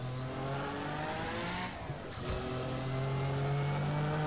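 Race car engine from the Assetto Corsa DRM Revival mod, loud and close, holding a steady drone, dipping briefly around a gear change, then climbing back up to a sustained high pitch.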